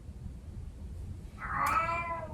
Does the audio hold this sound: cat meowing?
yes